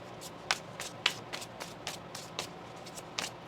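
A deck of tarot cards is shuffled in a series of about ten crisp, papery riffles and slaps, each short and close, spaced roughly evenly over a quiet room.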